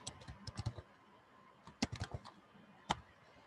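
Computer keyboard typed on in quick clusters of soft, close key clicks, with pauses between bursts and one sharper final tap.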